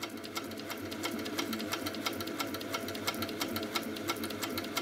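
An HQ Sweet Sixteen quilting machine stitches at slow speed, giving a quiet, even series of rapid mechanical ticks and a soft motor hum, close up with no talk.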